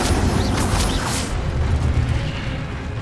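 The Incendio fire spell is cast in Hogwarts Legacy: a loud, booming burst of flame with a rushing, crackling roar that sustains and then settles into a lower rumble.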